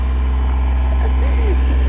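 Tractor engine running steadily while the tractor is stuck on a small rural road in Arkansas: a continuous low, rumbling drone with no breaks, loud and close throughout.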